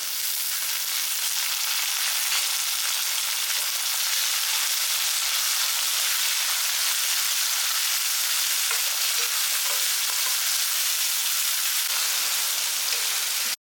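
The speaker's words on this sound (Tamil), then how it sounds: "வெங்காயம் நல்லா செவந்துருச்சு இப்போ தக்காளி பழம் ஒன்று கட் பண்ணி வச்சுருக்கோம் அதில் போட்டுருவோம்" Onions and tomato fry in a pan for peerkangai thokku, a continuous dense sizzle with soft crackle that holds steady throughout and has no talk over it.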